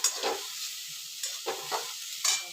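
Grated coconut being lightly heated and stirred in a pan for a sweet stuffing, with a soft dry sizzle and a few scraping stirs of the spoon, quiet and close with no talk.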